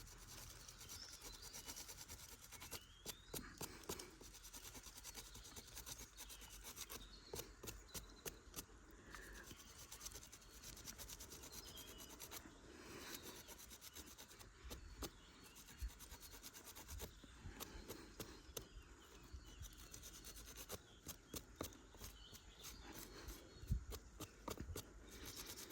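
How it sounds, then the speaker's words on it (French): Wood is sanded by hand in repeated back-and-forth strokes, a faint, close, gritty rubbing rasp with a steady rhythm that goes on throughout, with no talking. "On a encore 2 mm à poncer."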